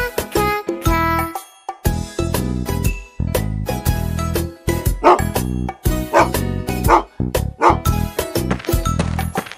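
Cartoon dog barks in a Spanish-language children's bathroom song, short yips repeating over bouncy music with chimes and jingles throughout.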